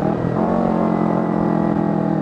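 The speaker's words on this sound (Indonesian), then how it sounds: "Ada truk nanjak anjir." A truck climbs a hill on a road, its engine laboring in a steady, loud drone with a low rumble throughout, close by and without speech.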